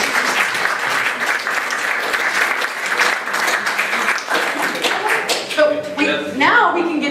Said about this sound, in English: strong applause, please